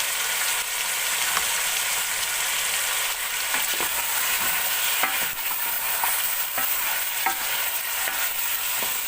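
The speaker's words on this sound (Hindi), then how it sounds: "अब उतने तक हम भूनेंगे जितने तक हमारे गोश्त का कलर चेंज नहीं हो जाता।" Beef with garlic and salt sizzles continuously in a pot for nihari, close and loud, broken by periodic scraping and clinks as it is stirred.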